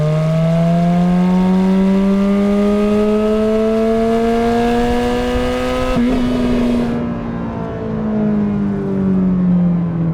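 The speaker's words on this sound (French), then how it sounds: "Le moteur, il hurle." A Ferrari F430 engine roars loud and close, its pitch climbing steadily in a sustained rev, then a brief shift-like break at about six seconds before the howl carries on, with no voices.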